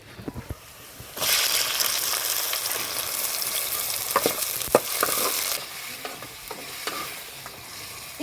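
Tomato pieces drop into hot oil in a pan for a veg roll filling, bursting into a loud close sizzle after a few soft knocks, then fading as utensil scrapes and clinks continue.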